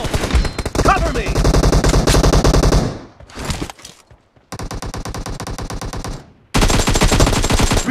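Rapid automatic gun sprays in a PUBG Mobile team deathmatch, three long loud bursts of fast repeated shots separated by brief gaps, close and dominant.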